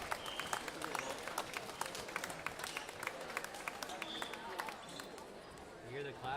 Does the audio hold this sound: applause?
yes